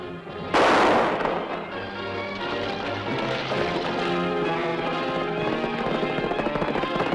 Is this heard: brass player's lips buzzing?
no